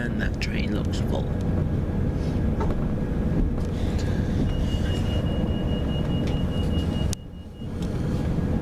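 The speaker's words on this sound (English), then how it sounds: "And that train looks full." A full passenger train rumbles past nearby on the line under the Bull Ring in Birmingham, a loud continuous low roar with brief higher squeals and a sudden dip near the end.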